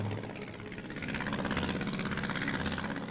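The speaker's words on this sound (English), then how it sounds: "Planes are used to accustom the soldier to enemy bombing attacks," Light Army aviation planes flying over troops during military training, a steady droning engine hum with a faint pulsing throb, distant to mid-range and continuous throughout.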